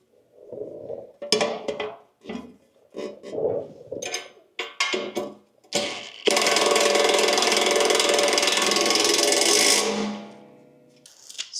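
A ratchet clicks in bursts while bolting a brand-new fuel tank, mount and straps onto a commercial mower, followed by a louder sustained mechanical whirr for several seconds that then fades out.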